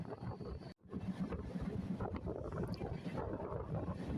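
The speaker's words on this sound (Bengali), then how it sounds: "বাতাসে খুব বেগ, গাড়িটি যেহেতু খুব জোরে চলতেছে" Strong rushing wind buffets the open door of a fast intercity train, a dense roaring blast with a brief dropout near the start, steady and close.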